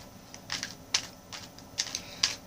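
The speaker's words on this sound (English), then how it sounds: "I'm going to go ahead and shuffle" Tarot cards being shuffled, giving quiet papery riffles and light slaps in a few brief bursts with no talking.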